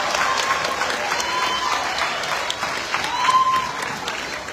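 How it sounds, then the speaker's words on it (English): Audience applause for fifth grade graduates at an elementary school promotion ceremony, a steady wash of clapping that holds for several seconds with a slight swell near the end. "we can give them a round of applause"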